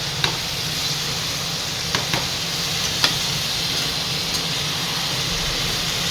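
Radish leaves for bhujia fry in a pan, giving a steady sizzle with occasional sharp crackles and pops, close and continuous, with no talking.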